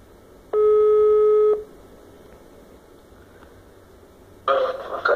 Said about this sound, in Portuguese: Então eu vou ligar aqui pro Campelo